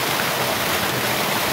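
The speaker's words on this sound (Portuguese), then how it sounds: "já já eu mostro pra vocês a cachoeira." Rushing water from a mountain waterfall at a countryside spot, a steady broadband roar filling the clip, close and continuous with no voices.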